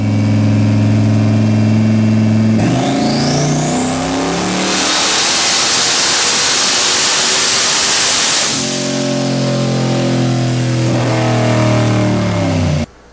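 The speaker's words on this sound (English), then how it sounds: "Now listen to it come up and pull up top." A car engine on a dynamometer revs up through a long full-throttle pull to about 6,000 RPM, rising steadily in pitch to a loud roaring peak, then drops back to a lumpy idle, with no talking.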